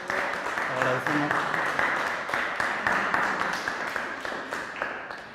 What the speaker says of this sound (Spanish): Pues le damos un aplauso al profesor Lino